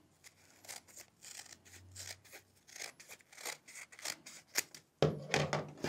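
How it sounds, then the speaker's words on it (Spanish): Scissors cutting out a paper template, making repeated crisp snips and slides in an irregular rhythm, close and fairly quiet, growing louder toward the end. "Luego lo recortamos"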